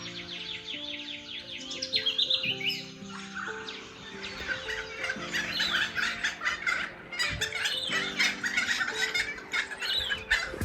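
Australian birds call and chirp in a busy mix of squawks and tweets, steady over about ten seconds, with music playing underneath.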